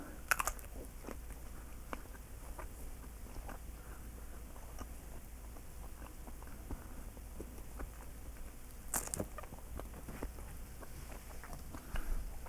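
Crunchy scalded homemade sausage being bitten and chewed close up, with a few sharp crisp bites standing out over a steady run of soft, moist mastication sounds, no talking.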